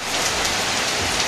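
Heavy rain pours down in a dense, loud, unbroken hiss of drops hitting surfaces, close and steady throughout.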